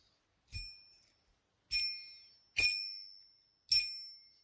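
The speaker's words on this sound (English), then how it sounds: "quite a nice little bell mechanism that might come in handy for a project" Small bell mechanism salvaged from inside a toy slot machine, struck four separate times with bright metallic dings that ring briefly and decay, evenly spaced, close and clear with no talking.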